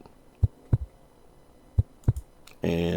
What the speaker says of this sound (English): we have like a heartbeat effect, stuff like that.